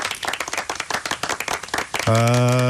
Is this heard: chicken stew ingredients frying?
no